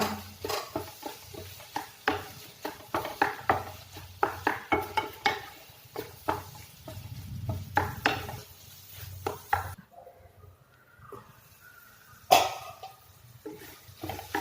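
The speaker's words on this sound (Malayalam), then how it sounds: "നല്ലോണം ഇളക്കി കൊടുക്കുക." Onions cooked in a pan for homemade egg puffs are stirred with a utensil, giving repeated close scraping and clinking taps against the pan for about ten seconds, then a quieter stretch with a single sharp knock.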